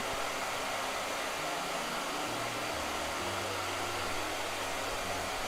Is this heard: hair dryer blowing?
yes